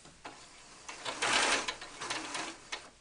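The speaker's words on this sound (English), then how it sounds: "I just pinch it up and go straight to the sewing machine to secure that in place" A sewing machine stitches a pleat in a cloth doll blanket, with quiet rapid mechanical whirring and ticking in short bursts, the busiest run in the middle, heard close and faint.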